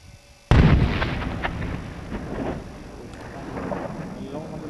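An artillery piece fires once with a sudden heavy boom, followed by a long rumbling tail and wind buffeting the microphone outdoors, with a voice heard around it.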